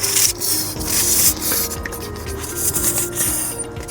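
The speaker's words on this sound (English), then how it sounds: "I'll rub a bit of glue into the ends" Glue is rubbed by hand into the unsealed end grain of wood during a van build, giving close, continuous scratchy rubbing strokes with faint knocks.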